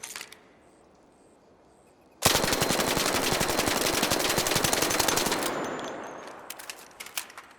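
Full-auto gunfire from a weapon fitted with a compensator, one sustained loud burst of rapid shots starting abruptly after a quiet lead-in, then fading into scattered echoing pops.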